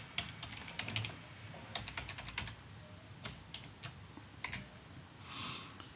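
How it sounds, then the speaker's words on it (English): Password being typed on a computer keyboard, quick bursts of crisp, close key clicks in uneven clusters, with a short soft rustle at the end and no talking. "so I'll go ahead and type my password."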